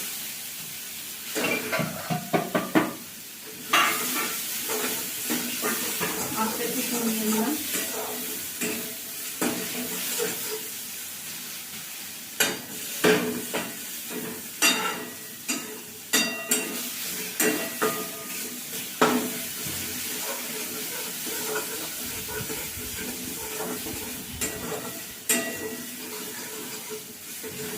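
Beans are stirred with chili powder, green chili paste and a little sugar in a frying pan: a close, busy sizzle with repeated scraping and clattering strokes of a spoon against the metal, and a short spoken remark early on.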